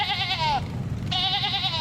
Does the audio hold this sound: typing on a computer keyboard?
no